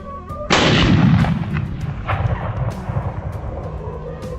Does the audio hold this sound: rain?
no